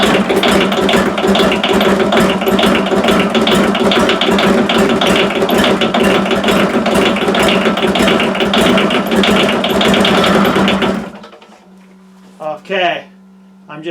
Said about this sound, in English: Nah, still needs to be bled a little bit more. She wants to go.